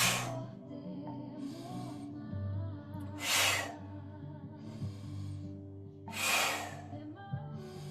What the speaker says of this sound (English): Draw the breath in.